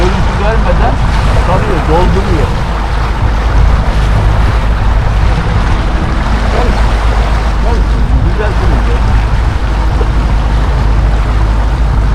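A motorboat at sea churns water inside a fishing net, running full throttle back and forth. Continuous engine drone and splashing wash mix with wind noise, and a voice talks over it.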